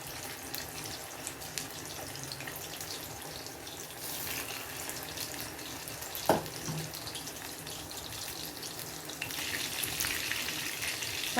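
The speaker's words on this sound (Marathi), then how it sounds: "परत उरलेले बोंबील आपण फ्राय करणार आहोत।" Bombay duck (bombil) fish pieces, four at a time, frying in a small pan (kadhai), giving a steady close hiss and crackle of oil with a brief sharp clink midway.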